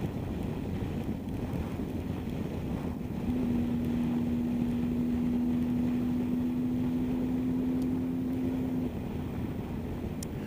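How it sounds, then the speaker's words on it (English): Triumph Tiger 800 motorcycle riding on a wet road into a strong 50 mph headwind, with steady loud wind roar and a constant engine drone that holds a sustained tone through the middle of the ride. "Like right now I'm riding right into a 50-mile-an-hour wind and the road's wet"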